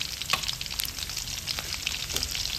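Minced garlic sizzles steadily in hot oil in a pan, making a close, bright crackling hiss throughout.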